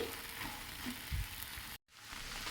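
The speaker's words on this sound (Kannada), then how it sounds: "ವಾಟರ್ ಕಂಪ್ಲೀಟಾಗಿ ಡ್ರೈ ಆಗುವಷ್ಟು ಹುರ್ಕೊಳ್ಬೇಕು" A pan of drumstick leaves and lentils fries close up with a continuous crackling sizzle and occasional scrapes of stirring. The sound cuts out briefly near the end and then resumes.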